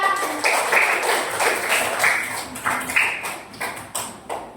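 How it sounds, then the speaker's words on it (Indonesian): Children in a classroom clap together for a classmate, a steady patter of many small hands, close and fairly loud, with a few sharper rhythmic claps standing out near the end. "Tepuk tangan untuk teman kita ya"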